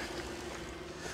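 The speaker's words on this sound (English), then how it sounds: "But the engine's sounding better." A car engine idles at a steady, low rumble, fairly quiet and continuous, with no voices over it.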